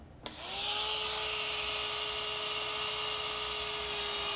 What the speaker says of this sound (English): What we want to use is a lab electric handpiece.